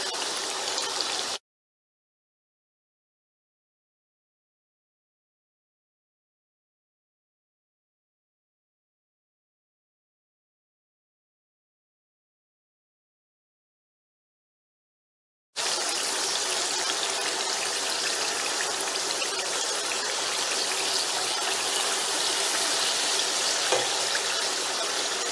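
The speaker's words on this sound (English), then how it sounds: "And deep fry them." Namak para dough pieces deep frying in hot oil, a steady broadband bubbling hiss that starts abruptly after a long stretch of silence and continues loud and unbroken to the end.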